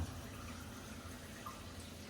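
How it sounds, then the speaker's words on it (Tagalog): Water runs in a steady, close stream into a container, such as a can being rinsed out during buko pandan preparation, and keeps flowing evenly for about two seconds with no voices. "Patuluan na natin siya ng tubig para hindi malikit sa pinaglagyan."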